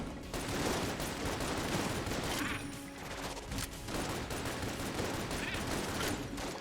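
Angry Bullets gun in Enter the Gungeon firing in rapid, dense volleys, a loud continuous crackle of overlapping shots with brief dips between bursts, no talking.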